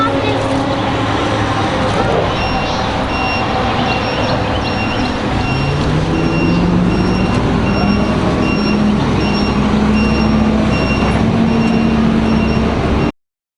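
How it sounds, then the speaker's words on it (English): An old antique tractor with steel wheels and a Wisconsin or Hercules engine runs at a spring antique tractor auction, a steady low engine drone throughout with voices talking over it. "An old Wisconsin or Hercules engine."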